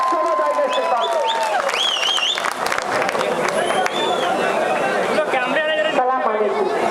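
A crowd at a public political meeting applauds vigorously, with dense clapping mixed with cheers, whistles and shouting voices throughout.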